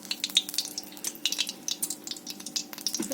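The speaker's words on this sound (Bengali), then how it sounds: "আমি কড়াইতে তেলটা দিয়ে দিচ্ছি" Oil heating in a wok before frying bhola fish, a faint uneven crackling with scattered light ticks and small pops, quiet and close, with a low steady hum beneath.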